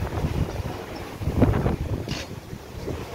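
Strong wind on a stormy, overcast monsoon day buffets the microphone outdoors with low rumbling gusts that swell and ease, carrying a faint airy rush above them and no talking.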